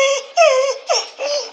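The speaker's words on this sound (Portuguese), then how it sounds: "Tem cachorro" A dog whimpering close by in a short series of high, wavering whines and yips, four plaintive cries in quick succession with no talking.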